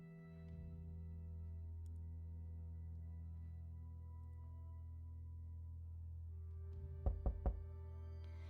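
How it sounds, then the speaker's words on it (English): A door knock in the video game Demonheart: three sharp raps in quick succession near the end, loud and close over a quiet, steady humming background. "Just then, someone knocked on the door and interrupted us."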